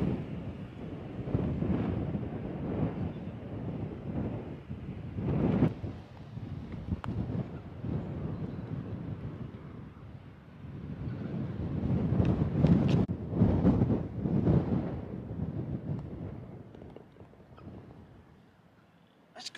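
Strong wind gusts roar across an exposed coastal golf course, a steady rumbling buffet against the microphone that swells and fades in waves, loudest in the middle stretch, with no talk.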